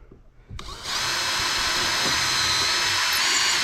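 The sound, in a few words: drilling a screw hole through fiberglass into wood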